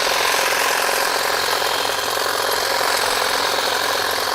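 A cordless YOUXIAN hedge trimmer runs as it cuts shrubs, making a loud, constant high-pitched buzzing whir that holds steady throughout.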